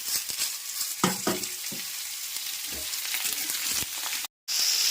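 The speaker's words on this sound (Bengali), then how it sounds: "তার মধ্যে একটু লবণ আর হলুদ দিয়ে ভালো করে একটু ভেজে নেব।" Cubed potatoes and elephant foot yam frying in a pan with salt and turmeric, a steady hiss of sizzling oil with scraping stirs and clatter, close up, briefly cut to silence near the end.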